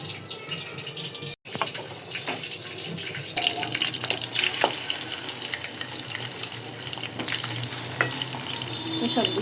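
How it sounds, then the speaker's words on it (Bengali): Spiced roast pieces go one at a time into hot oil, giving a constant dense sizzle with hissing swells and a brief dropout, close up with no speech, though a watery running quality blends in. "এখন ভাজতে বসিয়ে দিচ্ছি এক এক করে রোস্টগুলো"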